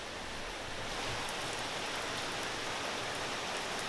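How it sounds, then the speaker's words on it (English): Rain falling outside at night, an even, constant wash of hiss and patter across the whole span, moderately faint, with no voices. "Sorry for the noise, it's currently raining."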